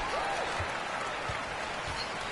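A virtual arena crowd in the NBA 2K23 basketball game cheers and applauds late in the fourth quarter, a continuous, fairly loud roar of clapping.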